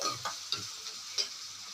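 Chopped onions with salt frying in a pan for bonda curry, a soft continuous sizzle with a few light stirring taps and scrapes.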